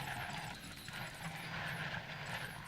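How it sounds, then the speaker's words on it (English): A helicopter arriving in the Jurassic World Evolution video game, its rotor and engine drone a steady, moderately loud whir that holds throughout without speech. "No T-Rex. But a helicopter."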